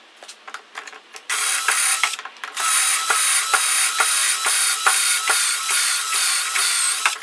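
A clamp ratcheting tight on a dowel jig during woodworking for a miter saw station, a loud steady train of rapid close clicks after a few separate taps at the start, no talking.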